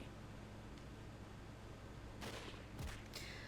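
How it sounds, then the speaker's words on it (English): Gunshots in the Hakuoki video game, two or three sharp cracks in quick succession near the end, fairly faint over a quiet background hiss. "I heard another gunshot."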